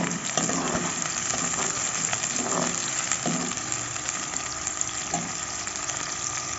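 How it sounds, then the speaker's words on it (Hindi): Sliced onions frying in hot ghee give a steady, dense sizzle throughout, close and fairly loud, with faint soft knocks scattered underneath. "तो प्याज को गोल्डन ब्राउन होने तक मैं फ्राई करूँगी।"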